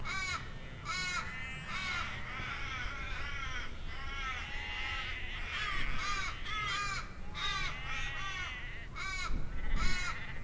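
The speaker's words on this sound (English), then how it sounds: "The ravens are so noisy and persistent" Ravens calling noisily and persistently near a wedge-tailed eagle's nest, harsh repeated caws overlapping in dense bursts throughout, loud and close against a steady background.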